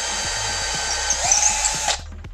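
A power drill bores into wood while making a tipi, a close high whine that holds for about two seconds and then cuts off abruptly as the motor stops.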